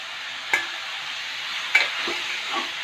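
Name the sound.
bottle gourd and shrimp sautéing in a pan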